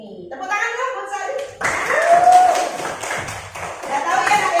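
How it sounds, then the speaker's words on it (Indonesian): Students in a classroom clap for a classmate, a burst of scattered hand claps that starts suddenly and continues under children's chatter and a speaking voice. "Tepuk tangan dong buat Sari."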